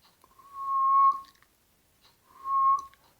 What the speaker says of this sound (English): it is actually possible to do the pucker whistle with the tip of the tongue pointing downward too.